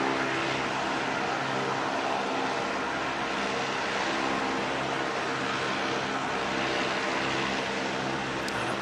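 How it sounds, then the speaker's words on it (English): An ATR turboprop airliner departs Christchurch Airport on a flight to Palmerston North, its engines giving a steady, loud broadband roar with a low propeller hum that holds throughout, with no voices. "ATR heading out to Palmerston North"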